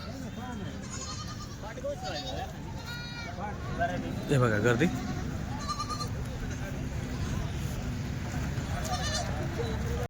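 Goats and bucks bleat at a crowded livestock market as a vehicle unloads them, several rising calls heard close over a constant murmur of people talking.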